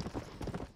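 A horse's hooves clip-clop in the Western video game Red Dead Redemption, several quick, faint, uneven steps in under a second.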